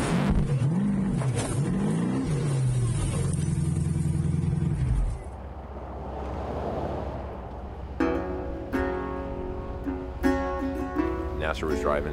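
A 4x4 trophy truck with more than twice a Toyota rally raid car's horsepower drives in the Baja 1000 desert race, its engine revving hard up and down before dropping to a duller rumble as a voice narrates.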